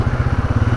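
A motorcycle engine heard from a helmet-mounted microphone while riding, a close rapid throbbing pulse that stays steady and loud for under a second.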